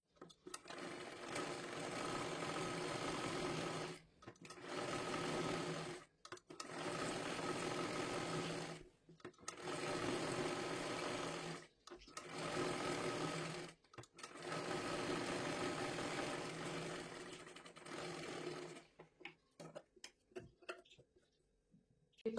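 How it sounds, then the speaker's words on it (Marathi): A sewing machine stitches a princess blouse in repeated steady runs of a few seconds each, separated by short pauses, close and clear with no talking. "आता हे पूर्ण आपल्याला शिलाई करून घ्यायचं आहे"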